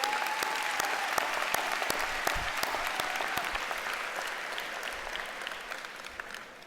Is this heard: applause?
yes